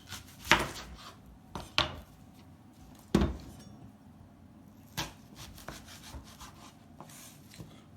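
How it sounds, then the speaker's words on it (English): A knife chops onion on a board in a home kitchen: several sharp, separate cuts and knocks at an uneven pace, close and fairly quiet, with no talking. "So I'm gonna start by chopping some onion"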